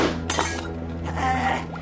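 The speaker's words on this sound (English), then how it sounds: "The sound of glass breaking." Glass shatters in a radio drama set in a laboratory full of test tubes, two bright crashing bursts with tinkling fragments over a steady low hum, close and fairly loud.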